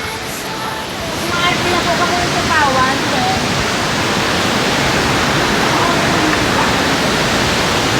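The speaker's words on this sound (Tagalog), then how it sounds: "Ganda nga po ng ilog oh. Galing nga sa bundok." A mountain-fed river rushes in a steady broadband roar at a resort, close and loud, while people talk briefly near the start before the water noise fills the rest.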